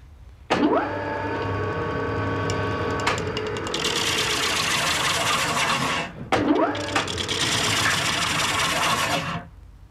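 Wood lathe turning a wooden spinning wheel part, a traditional Irish spinning wheel, as it is parted from the centre section: a steady, close whirring and scraping of tool on wood that runs continuously, pauses briefly and then starts up again.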